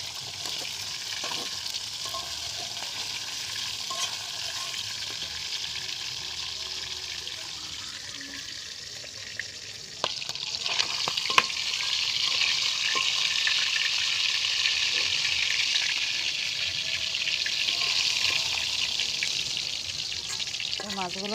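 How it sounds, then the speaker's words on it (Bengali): Fish heads and tails frying in oil in a home kitchen pan, a steady broad crackling sizzle running throughout, slightly louder in the second half, with occasional faint clinks and scrapes. "এখন এদিকে মাথাটাও লেজটাও ভাজা হয়ে গেছে"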